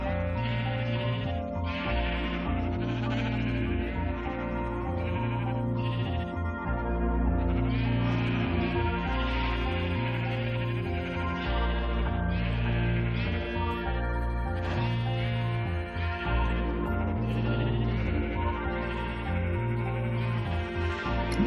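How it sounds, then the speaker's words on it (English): A sheep bleating in Minecraft, heard over steady, loud looping game music that dominates throughout. "There's one sheep that's free."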